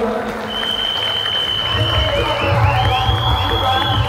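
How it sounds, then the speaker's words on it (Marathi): Loud audience applause and cheering for a brass band troupe from Khargaon, Bhiwandi, at a festival competition in Titwala, swelling over a few seconds with whoops and a whistle-like tone above the clapping. "एकदा जोरदार टाळ्या होऊन जाऊ द्या"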